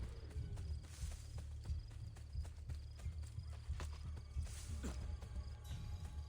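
Horse hooves clip-clop in the game Assassin's Creed Brotherhood, a steady run of fairly close hoofbeats over a constant low ambient rumble, with no voices.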